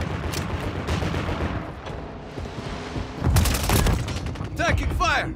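Gunfire rattles through a video game battle, with loud clustered bursts around the middle and sharp chirping effects near the end over constant combat noise.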